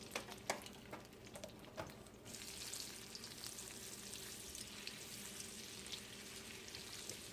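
Butter and vegetable oil sizzle in a frying pan: a few light taps and clatters at first, then a steady, close hiss of frying that continues without any talk.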